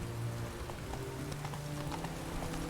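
Roach, a horse in The Witcher 3, trots with steady clip-clopping hooves under a continuous wash of rain-like ambient noise, faint and even throughout.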